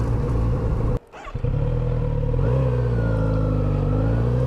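A Kawasaki Z900RS motorcycle ridden through a small village, its engine droning loud and close with a brief drop in power after a gear change before pulling steadily again, plus wind rush; no talk.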